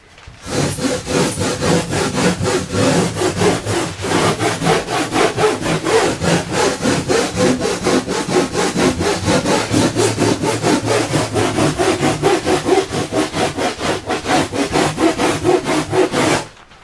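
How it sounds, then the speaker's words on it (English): Surfboard foam rail being shaped with a Surfoam-style rasp gives a close, loud, rhythmic scraping, with quick back-and-forth strokes repeating evenly for over fifteen seconds and no voices. "I'm just using my Surfoam or this G-Rasp type of thing, but you can use sandpaper"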